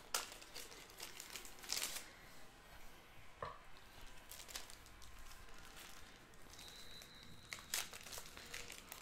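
Plastic card sleeve bags crinkle and rustle close up in irregular bursts, with a few sharper crackles and quiet gaps between handling sounds, no talk.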